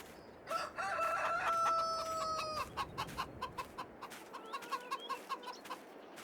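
Farm chickens in Farming Simulator 22, with a rooster giving a loud drawn-out crow near the start, followed by a run of short rhythmic clucks from the hens, close and clear.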